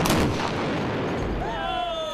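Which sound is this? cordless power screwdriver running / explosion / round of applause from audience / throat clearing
explosion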